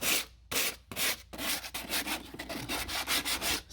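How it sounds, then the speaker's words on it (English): Wood is sanded by hand with 80 grit sandpaper, a close, rasping scratch in a steady rhythm of back-and-forth strokes, alone with no talk. "I'm just gonna use sandpaper 80 grit."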